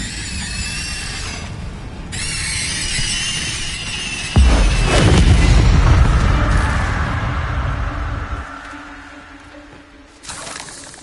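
Incendio fire spell cast in a Harry Potter video game, a sudden whooshing burst of flame that roars loudly for a few seconds and then slowly dies away.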